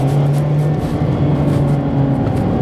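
2019 Mazda Miata ND2 Club driving up a hill, heard from inside as a steady, loud engine drone with a low hum and road noise throughout.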